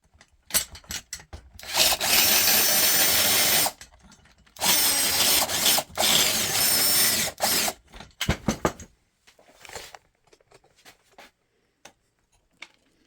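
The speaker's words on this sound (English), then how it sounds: "drill a new hole" A power drill whirs through a glued-in wooden dowel in an old hand plane in two long bursts, with clicks, knocks and handling noises between and after, close and loud.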